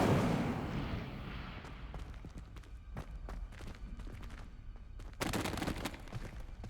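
Incendio fire spell cast in the video game Hogwarts Legacy: a rush of fiery noise opens, then a string of crackling bursts and sharp snaps, and a louder roaring burst comes near the end.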